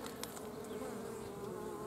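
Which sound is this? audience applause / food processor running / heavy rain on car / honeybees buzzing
honeybees buzzing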